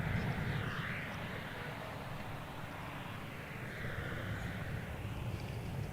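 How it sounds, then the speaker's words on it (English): An Airbus A321 airliner at DFW Airport, heard from outside as a steady distant jet engine roar with wind noise, staying fairly even throughout. "So we got an A321."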